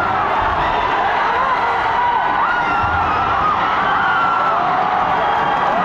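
Boxing crowd at a fight in General Trias cheers and shouts loudly and continuously, a dense roar of many voices with whoops rising and falling throughout, near and steady.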